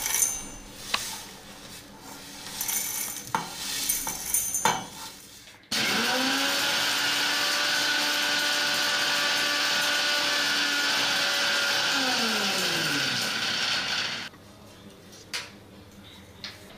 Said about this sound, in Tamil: இப்போ நம்ம கடுகு வெந்தயம் பெருங்காயம் மூணையும் வறுத்தது மிக்சியில் போட்டு பறக்க போகிறோம்.